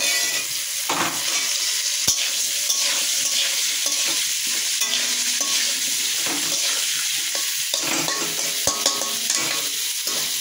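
Potatoes frying in a pan as cauliflower is added and stirred, giving a loud, steady sizzle with scraping stirring noises throughout and no talking.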